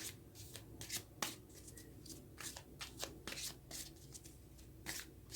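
Tarot cards are shuffled and drawn by hand, giving a close run of riffling, flicking and sliding bursts with small gaps between them, and no voice.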